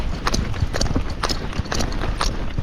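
Hooves of a gaited horse clip-clop steadily in a flat walk, an even, regular footfall rhythm heard fairly close with no talking.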